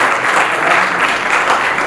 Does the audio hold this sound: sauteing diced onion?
no